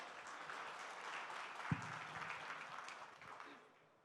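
An audience at a Global Telangana Association live music event claps together, a dense steady wash of applause that holds for several seconds and then fades away at the end.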